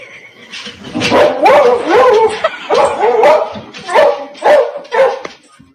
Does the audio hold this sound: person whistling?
no